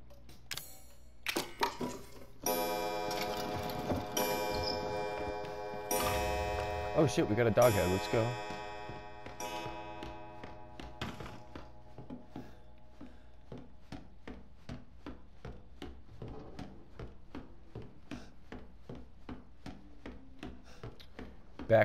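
A clock ticking steadily in the Resident Evil 7 game, with a regular tick running under game music and a voice talking over it.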